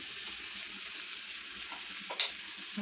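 Food sautés in a hot pan on a home stove, a steady soft sizzle with a brief clatter of a stirring spoon near the end, no talking.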